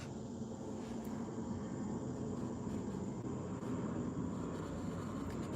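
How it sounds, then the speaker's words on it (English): Steady broadband roar of a plane passing over near an airport, heard through an open window, continuous and fairly distant with no talk. "So if you hear planes going by, that's what that is."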